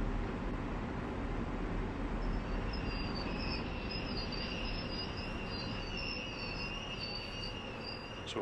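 In Train Sim World 2, a commuter train on the Harlem Line rolls into a station, giving off a steady low rumble with a thin high squeal from the wheels, continuous and close.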